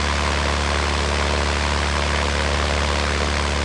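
A DR400 light aircraft's propeller engine in the Aerofly flight simulator drones steadily at idle, a loud continuous low hum with a broad airy wash over it and no talking.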